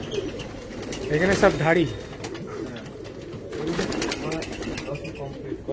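Lambadi pigeons coo in a loft, soft throaty calls rising and falling close by, mixed with someone talking over them.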